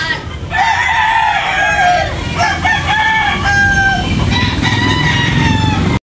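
A White Kelso gamecock crowing loudly and close, with repeated crows and clucks from other fowl overlapping against a busy yard background.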